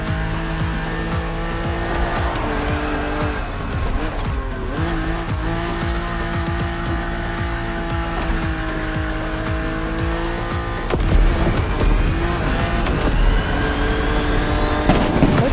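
A car races along in The Crew Motorfest video game, its engine droning steadily with shifting pitch while tires squeal in long sustained skids, growing louder toward the end.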